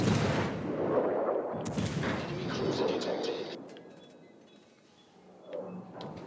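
Warship guns fire in a naval battle video game, heavy booming salvos rolling out under a voice talking, then fading to quieter distant thuds and mechanical clatter.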